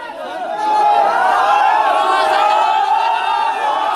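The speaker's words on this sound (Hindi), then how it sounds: "लोग स्टेशन के बाहर खड़े होकर नारेबाजी करने लगे।" A large crowd shouting slogans outside a railway station, a loud sustained roar of many raised voices chanting together, close and continuous.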